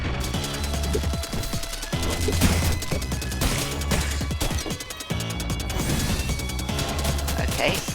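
Enemy hands firing shots in the video game Crypt Custodian: repeated crashing, popping shot effects over a steady game soundtrack, with a voice speaking over parts of it.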